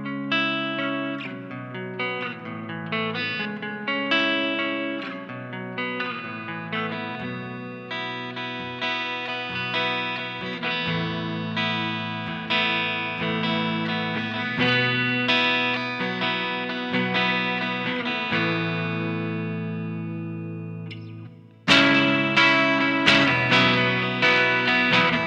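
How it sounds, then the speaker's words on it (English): Electric guitar through an Orange Micro Dark amp with reverb in the effects loop plays distorted chords and melodic lines with a lingering tail, steady and fairly loud, then a sharp louder strummed section near the end; no talking. "And now with the reverb and the effects loop, it sounds like this."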